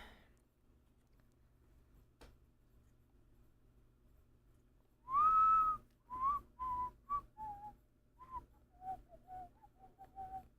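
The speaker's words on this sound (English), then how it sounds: "Now if I really want to, I could whistle a pretty good tune." A person whistles a tune solo, starting with a loud sustained note and moving into a series of short melodic notes, close and clear over a quiet room.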